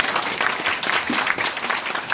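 Applause from a crowd at a political rally fills the space with steady, dense clapping that carries on without a break from start to finish.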